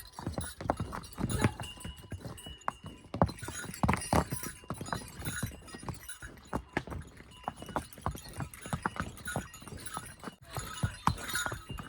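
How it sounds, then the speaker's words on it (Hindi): A horse's hooves clip-clop steadily along a mountain trail on the way to Deoriatal, near and fairly loud, with faint talk and trail noise around them. "ये रहा मेरा घोड़ा"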